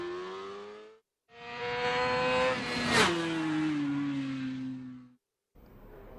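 Valentino Rossi's MotoGP racing motorcycle on track, its engine wailing as it rises through the revs in two near bursts separated by a brief gap at a gear change, loud and close, then a short third burst at the end.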